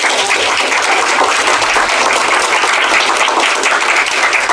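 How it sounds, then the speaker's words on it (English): A dense, steady round of applause from an audience at the opening of the Lebanon Valley Rail Trail, close and loud, with continuous clapping for several seconds and no talking over it. "I think we all need to give him a round of applause."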